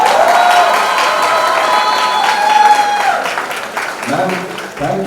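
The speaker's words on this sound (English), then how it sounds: "a big round of applause for your principal" An audience gives a school principal a big round of applause, with cheering mixed in. The clapping is loud, dense and sustained for about five seconds, then thins slightly near the end.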